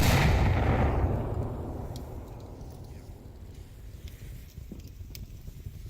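A grenade detonates in the VR shooter Onward: a loud, deep boom at the start fades into a long rumbling tail, and faint clicks and gunfire-like pops follow underneath.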